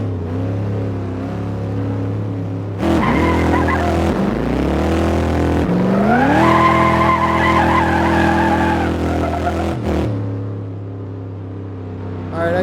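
Drag race launch in the racing sim Assetto Corsa: a loud, close engine revs and holds, then screams up through the gears with squealing tires, cutting out after about ten seconds.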